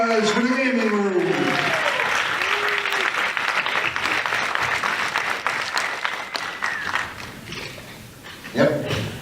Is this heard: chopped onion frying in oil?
no